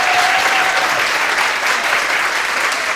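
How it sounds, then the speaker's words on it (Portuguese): Applause from a talk audience, dense and steady throughout at a loud level, with a brief whistle-like tone near the start. "eu queria uma salva de palmas para sua iniciativa"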